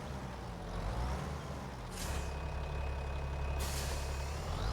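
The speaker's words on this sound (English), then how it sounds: "now I gotta back this up, and these trailers." A heavy truck in Farming Simulator 25 backs up while towing trailers, its engine droning steadily with two sharp hissing air-brake bursts and a faint thin tone, with no talking.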